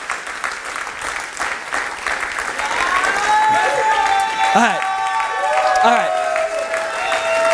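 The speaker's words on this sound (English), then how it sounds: "Would you just applaud him?" A church congregation claps and applauds steadily, broad sustained noise that swells slightly, with a sung or held musical tone rising over it and a brief spoken interjection.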